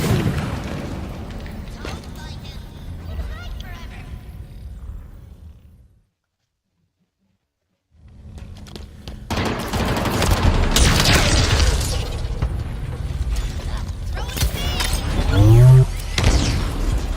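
A grenade detonates during a video game match with a deep boom after a moment of near-silence, followed by clattering, scattering debris and a dense wash of game noise, while a player talks over it.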